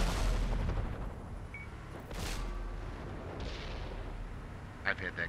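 Tank cannon shots in the World of Tanks console game come as a couple of sharp booms through a busy battle mix, with a player talking throughout.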